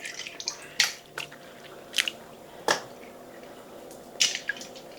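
Homemade butter squeezed and massaged by hand in a bowl of water to press out buttermilk, giving wet squishing, dripping and splashing sounds in scattered bursts, close and fairly quiet.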